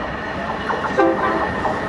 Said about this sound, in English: Here comes a cargo train.